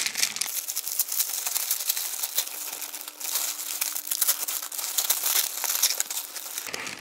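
Close, loud crinkling and tearing of plastic packaging being pulled open on Funke China Böller D firecrackers, a dense, busy crackle that continues almost without a break and has no talking.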